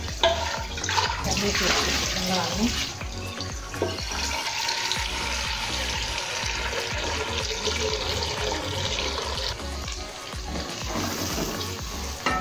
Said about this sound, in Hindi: हम हंडिया में अलग से पानी डाल देते हैं।